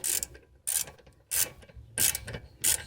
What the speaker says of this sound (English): I'm gonna get the 17mm and my ratchet on here and then take it off